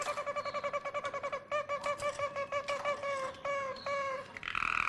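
A German Harz roller canary sings its flute tour, a close run of soft, rounded repeated notes in quick steady pulses, shifting pitch through several phrases before a brighter trill at the end, with no talking.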